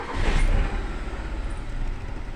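A 1997 Suzuki Baleno engine cranks and sputters as it tries to start, a rough, rumbling low churn that swells early and then runs unevenly, close by.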